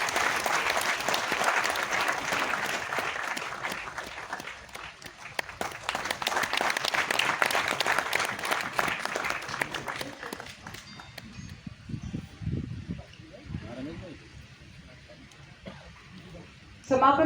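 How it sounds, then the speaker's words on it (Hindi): Audience applause at an award ceremony in Uttarakhand, with dense clapping for about ten seconds that then thins into scattered claps and murmurs. "तालियां तालियां तालियां।"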